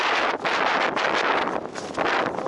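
Wind gusting outdoors on a perch fishing trip in Yakutia, a steady broad rushing buffeting the microphone, swelling and easing in waves with no voices.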